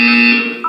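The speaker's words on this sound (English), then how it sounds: "When you hear the buzzer, look down at the floor." A buzzer in the video game Portal 2 sounds as one loud, sustained electronic tone held for most of the moment, then dips before a brief higher blip at the end.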